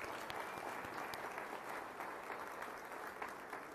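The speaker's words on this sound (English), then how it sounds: "The rousing, ovation is yours." Steady applause fills a graduation keynote hall, a dense, even wash of many hands clapping at moderate distance, with no break and no voices on top.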